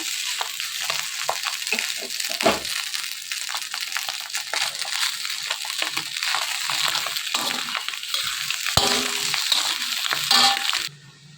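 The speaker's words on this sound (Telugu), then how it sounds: "ఇందులోనే మనం ఉడికించి పక్కన పెట్టుకున్న అన్నం మొత్తం ఇందులో వేసుకోవాలి" Cooked, pre-salted rice tipped into a hot pan and stir-fried for egg fried rice, a steady sizzle broken by many crunchy scrapes and tosses of a spatula, ending abruptly.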